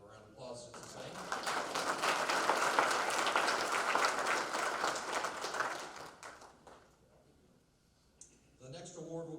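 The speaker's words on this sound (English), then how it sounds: "Let's give them a round of applause" Applause from an awards-ceremony audience at a convention, a full crowd clapping in a sustained rattle that swells and then fades out, with a voice speaking over the quiet opening and the trailing end.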